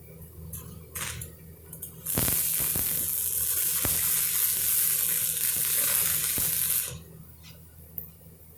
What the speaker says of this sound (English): And this fixing to be welded way better than it ever was